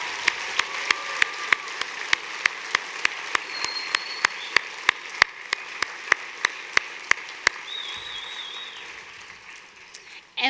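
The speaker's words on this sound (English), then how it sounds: "let's have a big applause for him as we honor him with his brave feats of courage" Audience applause at an award event honoring a brave hero, a steady crowd patter with sharp, evenly spaced single claps cutting through at a regular beat before it fades out.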